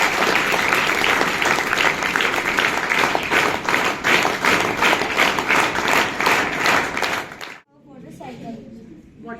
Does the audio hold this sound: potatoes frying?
no